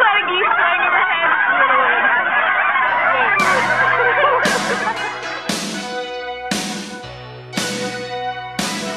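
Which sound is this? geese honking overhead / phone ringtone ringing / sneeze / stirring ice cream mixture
geese honking overhead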